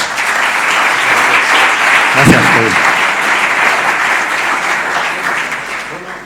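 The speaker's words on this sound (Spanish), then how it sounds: "muchas gracias por los aplausos" An audience applauds at a Spanish-language talk on ergonomic risk assessment, with loud, sustained clapping throughout and someone briefly speaking over it partway through.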